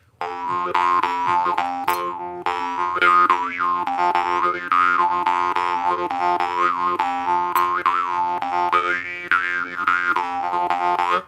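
A small, delicate drimba jaw harp twangs continuously with a buzzing drone and shifting, vowel-like overtones that rise and fall in a steady rhythm.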